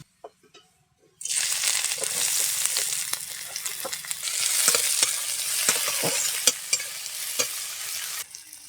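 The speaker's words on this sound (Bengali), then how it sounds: "সবজিটা ভাজার জন্য একটু তেল দিয়ে দেব" Onion and vegetables frying in hot oil on a stove, a loud steady sizzle that starts abruptly after a quiet moment, with scattered stirring clicks and scrapes over the hiss.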